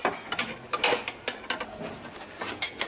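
A 16 mm wrench working a bolt while removing a car engine, close metallic clicks and clinks in an irregular rhythm with small ratcheting taps, fairly faint and without speech.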